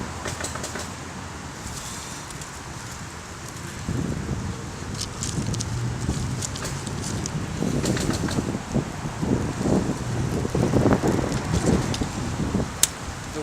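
Steady wind buffets and rustles against the microphone outdoors while a fire starter is lit on a raft of fluffed-up birch, with crackling bursts rising as the flame catches.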